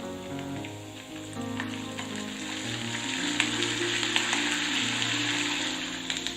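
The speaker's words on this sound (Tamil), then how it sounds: "இஞ்சி ஓரளவுக்கு நல்லா ஃப்ரை ஆனதும் இதுல கொஞ்சமா கருவேப்பிலையும் சேர்த்துக்கலாம்" Ginger and curry leaves fry in hot oil in a pan for temple-style ven pongal, giving a steady, close sizzle with scattered pops that gradually grows louder.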